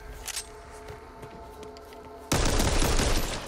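Gunfire from the Back 4 Blood video game: scattered shots at first, then a dense, loud burst of rapid automatic fire that continues to the end.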